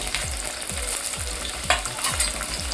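Curry leaves and garlic-ginger paste fry in a pan for a quick home khichdi, giving a steady sizzle with repeated stirring scrapes and a few sharper spatters, close and alone.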